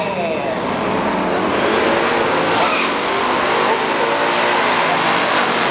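A 1970 Plymouth Cuda running hard, a loud, dense, continuous engine roar that holds steady throughout at close range.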